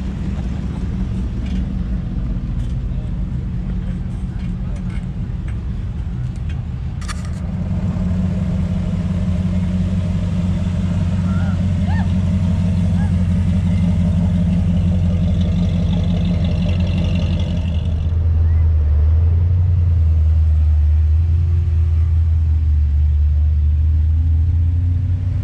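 Hot rod cars cruising a street strip at a car show, with a deep, rumbling engine burble rolling past nearby, growing louder and heavier toward the end as a big engine idles close by.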